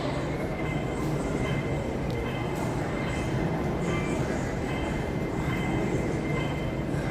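A metro train rumbles steadily at an underground station at Hong Kong airport, a continuous broad roar with faint wheel squeals and a voice heard low in the background.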